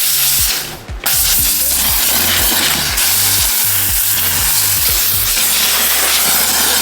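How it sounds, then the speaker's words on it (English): A handheld steamer hisses loudly and close over Jordan 4 Retro Thunder sneakers, a dense continuous spray broken by a brief pause, with a rhythmic low pulsing from the machine underneath. "Let me steam everything out."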